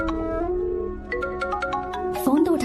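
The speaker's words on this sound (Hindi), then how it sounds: "फोन तो उठा ले।" A phone ringtone plays a repeating melodic pattern, with a voice speaking over it near the end.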